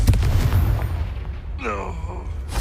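Confringo blasting spell in Hogwarts Legacy, a deep booming explosion at the start that rumbles and fades, followed by a short voiced exclamation.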